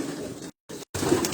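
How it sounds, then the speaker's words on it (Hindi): Banded pigeons cooing in a loft of low-flying racing pigeons, a close, steady stream of soft throaty coos broken by two brief silent gaps. "वो पट्टी वाले कबूतर हैं जो मैं आप दिखा रहा हूँ"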